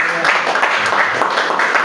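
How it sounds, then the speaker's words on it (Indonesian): A church congregation claps together, a dense, loud, rolling burst of applause that stays steady for the whole moment, close and filling the room. "Berikan tepuk tangan buat Tuhan."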